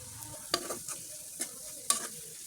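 Shrimp fry in oil in a pan, a quiet sizzle broken by a few sharp spatula scrapes and stirring knocks, no talking.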